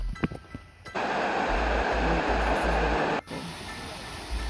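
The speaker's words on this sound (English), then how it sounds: "I will pause to just let you enjoy the sound of the water and the view" Waterfall on the Mount Tammany hike, a loud, close, steady rush of flowing water that swells in for a few seconds, with quieter outdoor background before and after.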